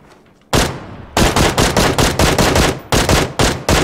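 Loud, close bursts of QBZ rifle fire in PUBG Mobile: a single shot, then a rapid run of evenly spaced cracks, a brief pause, and a few more shots, all with no talking.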